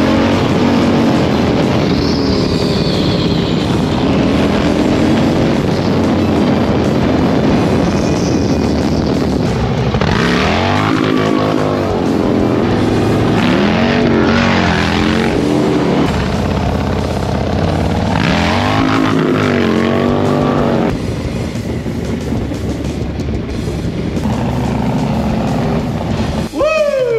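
Harley-Davidson Low Rider ST motorcycle engine at speed, a loud continuous exhaust roar with repeated rising and falling revs through the gears, heard close over wind noise for nearly half a minute.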